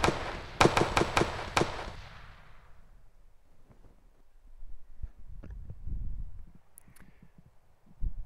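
Gunfire aimed at the player in a video game on a Ranger School map: a burst of about five sharp, loud cracks in quick succession, followed by fainter scattered pops and low rumbling in the background.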